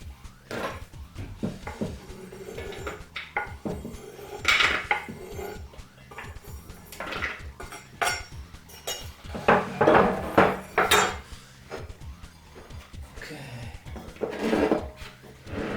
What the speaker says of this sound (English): I'm using this French press